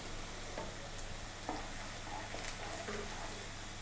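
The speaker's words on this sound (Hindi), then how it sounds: "तो इन मसालों को जो है हम प्याज के साथ, प्याज हमने लाइट ब्राउन करने हैं" Onions sizzle with whole spices in a hot pan as they turn light brown for a beef yakhni pulao, a steady close crackle with occasional stirring.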